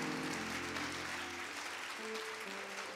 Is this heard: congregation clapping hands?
yes